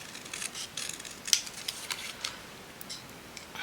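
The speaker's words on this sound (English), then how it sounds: "Let's just snip this little bottom piece off." Scissors snip a small bottom piece off a handmade paper embellishment, a few quiet crisp cuts with one sharper click standing out, close up with no talking.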